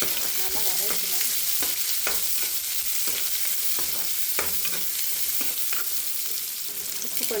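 Onions sautéing with crushed garlic in a hot pan for a carrot and egg podimas, a steady close sizzle with periodic scrapes of a spoon stirring through.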